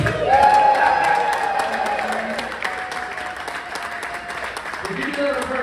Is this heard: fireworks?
no